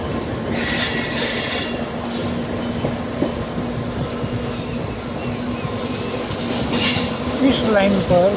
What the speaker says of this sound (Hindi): इस लाइन पर गुड्स ट्रेन